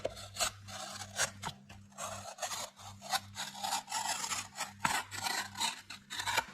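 A blade saws lengthwise through a cardboard paper towel roll in a DIY lamp build, giving repeated close, raspy scraping strokes in an uneven rhythm, quiet and alone, with a steady low hum beneath.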